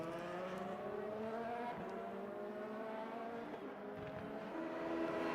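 An LMP2 prototype race car in a Le Mans racing video game, its engine droning steadily at high revs with layered harmonic tones, loud and continuous throughout with slight pitch shifts and no talk.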